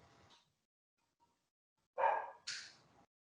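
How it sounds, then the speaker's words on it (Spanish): A small dog gives two sharp barks close by in an indoor online session, the second higher-pitched than the first, after a mostly quiet stretch with a faint short bark at the start. "Por ahí oí un perrito ahí ladrando."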